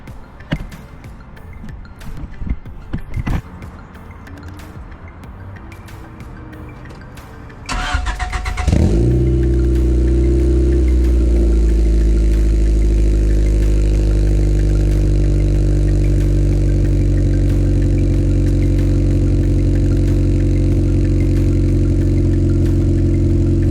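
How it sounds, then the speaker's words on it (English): A Honda CRX engine with an aftermarket exhaust cranks and fires up about eight seconds in, then settles into a loud, steady, rumbling idle with deep exhaust tone, preceded by scattered clattering. "First start with the exhaust."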